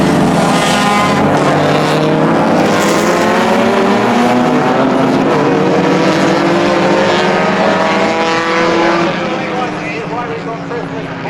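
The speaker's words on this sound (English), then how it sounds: "looks like that 944 GT car is back out on track" A Porsche 944 GT race car drives on the track at Atlantic Motorsports Park, a loud sustained engine drone whose pitch rises and shifts before easing off, with talk over it.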